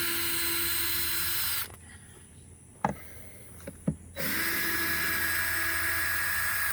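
A power drill backs the screws out of a swarm trap lid, whining loudly in two long runs separated by a quieter pause that holds a couple of sharp clicks.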